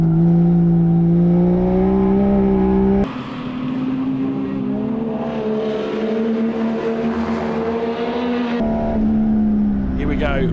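Holden HQ race cars race at Morgan Park during the national championship, their engines droning loud and close, shifting pitch abruptly as cars change gear and pass. A commentator talks over the engines.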